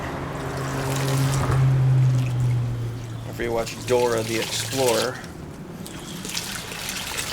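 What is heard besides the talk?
water being poured into a tomato plant pot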